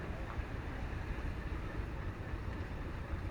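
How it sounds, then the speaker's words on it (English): A steam traction engine at a steam show in Plain City, Ohio, vents steam in a steady, close rushing hiss over a low mechanical rumble, continuous and unbroken with no voices. "A bunch of steam coming out from under the"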